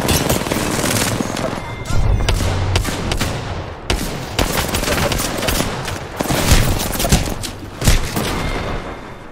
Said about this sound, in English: I'm gonna use shotgun.